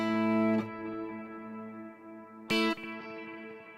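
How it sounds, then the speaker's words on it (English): Ambient electric guitar through a Kemper with legacy delay and a big reverb, two sustained chords ringing with long smooth tails and repeats, the second struck about halfway through. "Then I've got a second delay that I'm adding in here, which on the Kemper they just call that a legacy delay."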